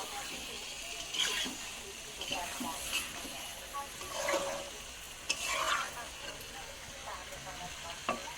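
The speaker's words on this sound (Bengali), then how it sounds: "মাংসটা আবার ভালো করে কষিয়ে নেব।" Chicken is stir-fried in a pan for biryani, a soft sizzle under repeated scraping and stirring strokes at an irregular rhythm, fairly quiet and close.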